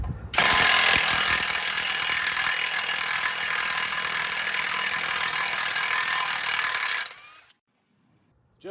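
An ALLOYMAN 1/2-inch impact wrench run at full force gives one loud, continuous hammering burst lasting about seven seconds, then cuts off abruptly into near silence.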